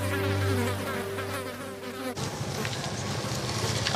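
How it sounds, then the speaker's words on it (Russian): Flies buzz close by on a littered street in Karachi, Pakistan, a loud droning hum that holds for about two seconds and then gives way to a noisier outdoor wash. "мухи на тебя налетают"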